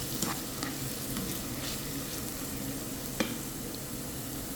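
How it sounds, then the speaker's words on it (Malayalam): Melted jaggery is stirred into cooked nendran banana in a pan for pradhaman, making a continuous soft, even sizzle with faint scraping and one sharp spoon tap near the end. "ഇനി ഇതിനകത്തോട്ട് നമുക്ക് ഉരുക്കിയെടുത്ത ശർക്കര നമുക്ക് അരിച്ച് ഇതിനകത്തോട്ട് ചേർക്കാം."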